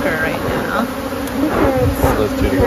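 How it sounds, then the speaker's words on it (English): Honey bees buzz steadily and densely at close range around an open hive during field work at a San Diego bee sanctuary, where bees are being collected for varroa checks with a smoker in use; faint voices can be heard beneath the buzz. "So we're collecting bees for the varroa checks"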